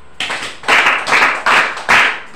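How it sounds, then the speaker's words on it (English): A classroom group clapping together in unison, five sharp, loud claps in a quick even rhythm, heard close with no talking over them. "Please give 5 claps for ourselves."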